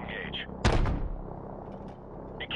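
A single loud gunshot or explosive blast rings out in Call of Duty: Modern Warfare Remastered, a sharp broadband crack with a rumbling low tail, set against steady battlefield ambience and radio chatter.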